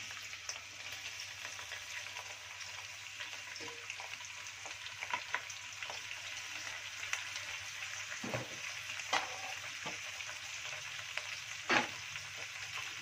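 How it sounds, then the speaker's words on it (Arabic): Shrimp shells frying in hot oil as a base for concentrated shrimp soup, a steady close crackling sizzle with occasional louder pops and stirring scrapes, no voices. "اول ما الزيت ابتدى يسخن كده بالشكل اللي احنا شايفينه ده، هننزل بقشور الجمبري."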